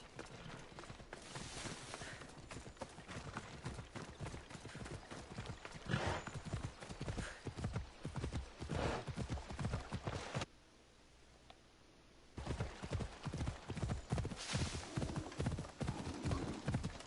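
Horse hooves clip-clop steadily in Assassin's Creed Odyssey, a continuous close rhythmic gait that pauses briefly near the end before resuming.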